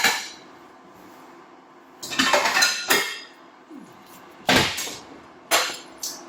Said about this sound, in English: First off, smaller pan. Ooh, I grabbed the wrong pan.